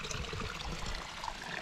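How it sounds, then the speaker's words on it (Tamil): Fresh hill spring water runs from a carved bamboo pipe in Eravikulam National Park near Munnar, a steady close-up trickle and splash with no break. "அந்த ஹில்ஸ்லேருந்து தண்ணி அப்படியே அந்த மேகம் பட்டு அந்த தண்ணி ஊறி வர ஃப்ரெஷ் வாட்டர்"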